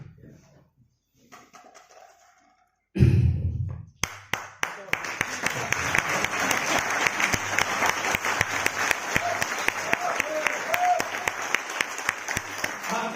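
Applause from an audience at an RCM business seminar, starting after a quiet moment and a brief bump, then building into sustained, fairly close clapping that carries on steadily to the end.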